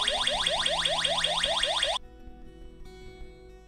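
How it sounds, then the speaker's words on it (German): A GSM home alarm system's electronic siren, manually triggered, wails in rapid repeating upward sweeps, loud and close, then cuts off abruptly, leaving a faint hum. "Per Druck auf die Notfalltaste an der Fernbedienung wird ein manueller Alarm ausgelöst"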